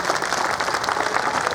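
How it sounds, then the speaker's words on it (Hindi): A crowd at an election rally and road show applauds loudly, a steady, dense wash of clapping that continues without a break. "भाई पंकज शर्मा का जोरदार ताली से स्वागत करें।"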